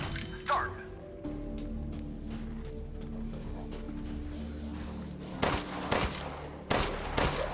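Shotgun fire in the video game Resident Evil Village, Mercenaries mode: a few loud, sharp blasts over a steady background of game noise and music, with one shot early and two heavier bursts near the end.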